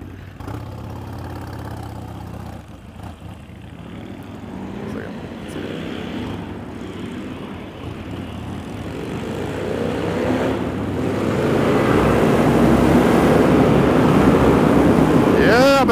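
Car engines rev in a tunnel, the throaty roar building from a rumble to a loud, sustained, echoing blare over the final seconds.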